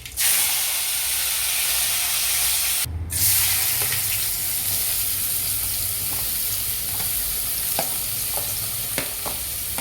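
Mustard seeds, cumin and curry leaves hitting hot oil in a pan for a squid gravy, a sharp hissing burst at first that settles into a continuous crackling sizzle with scattered pops, near and steady.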